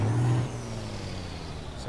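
A Kenworth K100E truck with a top-spec engine starts up and idles in American Truck Simulator, a deep steady diesel rumble with a brief hiss at the start.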